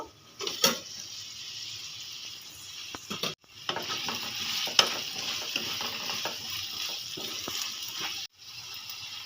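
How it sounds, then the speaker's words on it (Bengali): Food frying and being stirred in a pan with its lid lifted, in the making of crispy aloo paratha, heard as a steady close sizzle with scraping and clinks, a couple of short breaks, and no talking. "ঢাকাটা খুলে একটু নেড়ে দেব"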